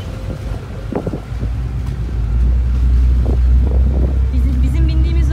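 Low rumbling engine drone of a ferry on the Bosphorus in Istanbul, with wind and water wash, steady and loud, while faint voices murmur in the background.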